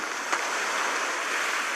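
Water rushing from a burst dam in a Baahubali film scene: a steady, loud broadband roar of flowing water with no break, and one faint brief knock near the start.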